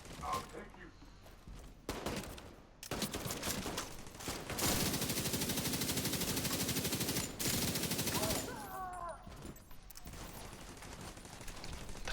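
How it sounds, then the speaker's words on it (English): Rapid bursts of gunfire from The Division 2 video game, loud and sustained through the middle with sharp repeated shots and automatic fire, heard through a headset, alongside some talk. "I like the way that the gunshots feel on the new headset."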